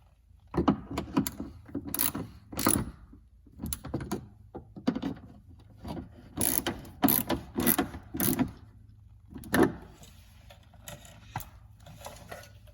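A ratchet tightens the mudflap mounting screws on a BMW F30, giving bursts of quick close clicking strokes in an irregular rhythm with short pauses between them.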